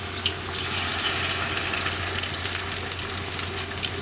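Pakoras frying in a kadhi pan of hot oil, a steady dense sizzle with crackling pops and faint watery bubbling, close and continuous throughout with no talking.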